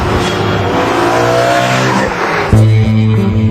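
A 2007 BMW M3 with sharpened throttle response pulls away hard, its engine note rising loud and close, then jumping to a stronger, steadier roar about two-thirds through.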